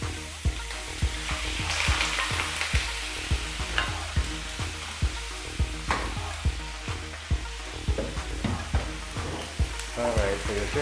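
Beef fries in a little oil in a pan, a constant close sizzle punctuated by regular knocks and scrapes of a utensil stirring, with no talking.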